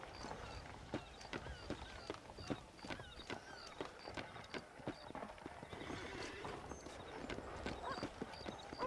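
Horses' hooves clip-clop steadily in the Red Dead Redemption video game, a dense run of hoof strikes with an occasional whinny over a busy town background of creaks and movement.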